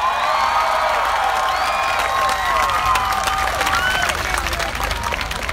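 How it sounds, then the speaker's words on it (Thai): Large crowd of over ten thousand protesters applauding at a rally in Thailand, dense continuous clapping mixed with cheers, whistles and shouts, loud and sustained throughout. "ปรบมือให้ตัวเองนะครับ"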